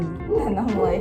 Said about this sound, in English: that's my dog that Issa's not happy with